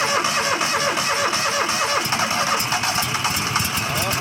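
A gas engine on a sawmill turns over and catches, then runs with a rough mid-pitched rumble, loud and close throughout.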